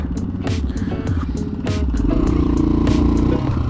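Honda XL 500 R motorcycle accelerating hard for a wheelie attempt, its engine a loud close roar that rises in pitch and holds steady, with rhythmic clattering pops throughout.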